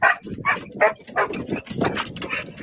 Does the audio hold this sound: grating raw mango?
no